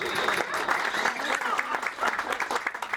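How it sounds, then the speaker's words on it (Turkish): Guests at a reunion of Erzincan High School's 1982 graduates clapping for a graduate's wife: fairly faint, steady applause with a voice heard through it. "Ona da bir alkış."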